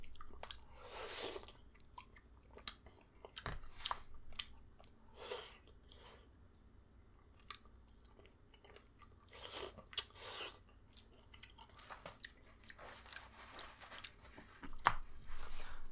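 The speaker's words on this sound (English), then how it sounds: "man, why do you eat so loud?" Loud, close chewing during a mukbang of Korean pork spine stew (gamjatang): irregular wet crunches, bites and squishy smacks that come in bursts for about sixteen seconds, with no talking.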